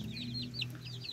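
Native chickens in a rural Philippine farmyard cluck softly in quick chirpy calls over a low background hum, close by and moderately quiet.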